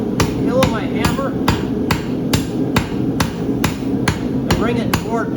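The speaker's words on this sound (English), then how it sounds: "I hit it with the heel of my hammer." A farrier's hammer strikes a welding-hot horseshoe on an anvil in about a dozen loud, evenly spaced ringing blows, close and sharp, with forge roar beneath.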